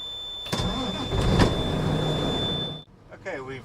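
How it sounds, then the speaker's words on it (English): A truck engine restarts during a pre-trip inspection: a broadband cranking and catching rumble that settles into a steady near idle, with a high electrical whine, then drops off before brief voices follow. "we've restarted the engine"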